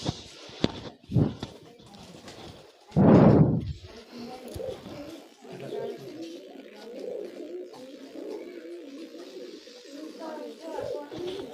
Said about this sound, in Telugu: పావురం